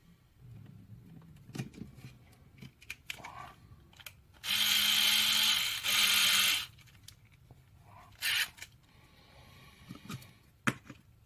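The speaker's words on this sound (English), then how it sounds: "I'll get a drill bit, make that a bit bigger" Two bursts of a power drill whirring at a high pitch while enlarging a hole on a Life-Like GP38-2 model locomotive, each lasting over a second, between quieter handling clicks and knocks nearby.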